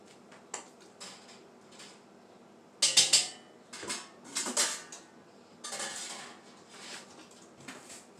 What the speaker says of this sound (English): Now we'll get this one back in the canner.